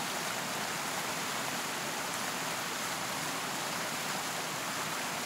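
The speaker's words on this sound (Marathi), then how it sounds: "हाही असाच छोटासा देखणा धबधबा" A small, clear-watered waterfall in the monsoon hills near Chiplun, its steady broadband rush of falling water continuous and fairly close, with no voices.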